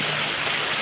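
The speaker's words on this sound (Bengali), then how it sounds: "সকাল থেকেই বেশ মুষলধারে ঝড়ো হাওয়া সহ বৃষ্টি হচ্ছে" Heavy rain lashes down in stormy wind, a steady, dense wash of hiss and patter with no pauses or voices.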